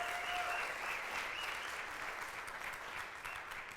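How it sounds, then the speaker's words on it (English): Quiet, steady applause from a seated audience at a community talk event after a performer, continuous dense clapping at moderate distance with no speech over it. "Give another applause for her,"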